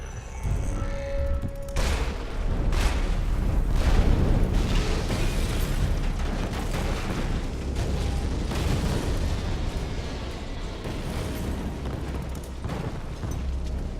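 Explosions and dense gunfire from the Borderlands video game, loud and sustained, with bursts and booms running continuously throughout, no voices present.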